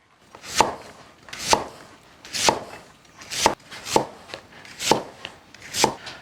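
A knife slicing a round Sichuan radish on a cutting board, seven evenly spaced crisp chops with a woody knock, close and clear with no talk.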